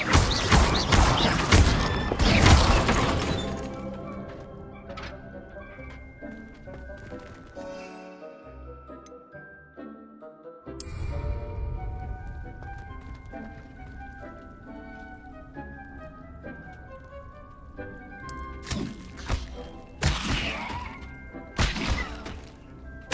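Spell effects from the video game Hogwarts Legacy as Accio, Incendio and Levioso are cast, with loud whooshing bursts and impacts at the start, near the middle and toward the end, over a continuous music and ambience bed.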